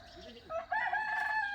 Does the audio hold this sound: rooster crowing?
yes